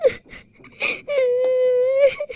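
A young girl cries at close range, with short sobbing gasps followed by one long, loud wailing moan that trails into more whimpers.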